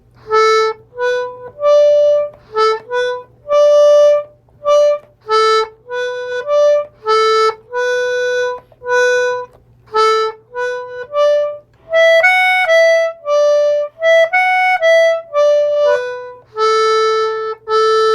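An Anglo concertina plays the tune Angelina Baker, a bright, reedy melody of short detached notes in a lively rhythm, close and clear with no talking.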